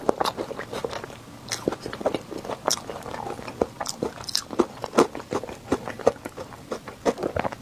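Crispy-edged custard fish-shaped pastry bitten and chewed up close, a steady run of sharp crunches and soft chewing clicks in irregular rhythm, loud and alone.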